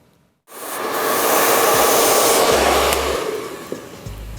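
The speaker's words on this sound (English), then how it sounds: "blow dry with a round brush it a bit" A hair dryer starts abruptly and blows steadily at close range while styling hair with a round brush, a loud, airy rushing hiss that holds for several seconds before easing off.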